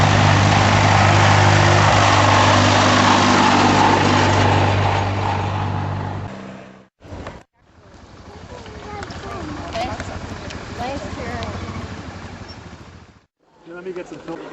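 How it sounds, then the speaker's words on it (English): A converted ride-on lawnmower, formerly with a conventional motor, drives down a road as the last entry in a parade, giving a steady loud drone for about six seconds. Quieter outdoor rumble and talk follow. "here we are, riding this lawnmower down the road"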